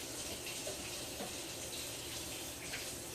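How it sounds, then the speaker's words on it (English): Kitchen sink tap runs in a steady, unbroken wash of water while hands are washed beneath it, close and constant with no talking. "let me take this to the sink and wash my hands"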